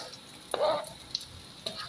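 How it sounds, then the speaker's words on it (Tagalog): Garlic and onion sauté in a pan for ginisang sayote sa tinapa, a sautéed chayote and smoked fish dish. A soft sizzle sits under one short burst of stirring near the middle and a few faint clinks. "Igisa muna natin ang bawang, then"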